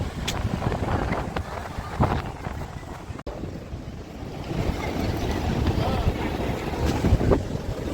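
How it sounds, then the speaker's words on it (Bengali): Strong sea wind at Digha beach buffets the microphone in heavy rumbling gusts, with surf noise mixed in and a short break near the middle. "কিন্তু হাওয়াটা তো অসাধারণ দিচ্ছে।"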